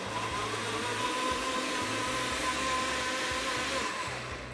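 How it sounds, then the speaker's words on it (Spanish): A kitchen blender purees tomatoes with chiles, with garlic cloves also going in: a loud, steady motor whir with a low pulsing drone that holds for several seconds, with no talking. "Aquí Andrés va a licuar ya los tomates con los chiles"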